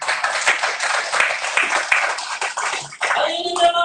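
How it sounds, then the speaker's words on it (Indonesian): A church congregation claps during a Pentecost sermon, a fairly loud burst of many hands that fades out after about three seconds, followed by voices and a sustained tone. "Berikan tepuk tangan"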